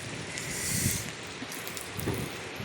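Steady rain falling, a dense even hiss of drops close by with no voices, holding at the same level throughout.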